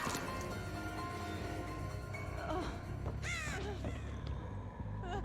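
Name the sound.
crow cawing as it flies in, Dead by Daylight video game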